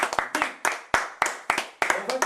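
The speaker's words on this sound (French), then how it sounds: "La foule en délire" Scattered clapping from an audience at a magic show, sharp separate claps that come in small bunches rather than full applause, fairly close and with gaps of quiet between them.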